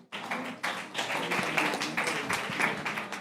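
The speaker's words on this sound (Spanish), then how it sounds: "Un aplauso." Applause from an audience at a live gathering, right after a prayer: a dense, steady patter of many hands clapping, fairly close and sustained for several seconds.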